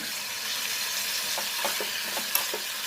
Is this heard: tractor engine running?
no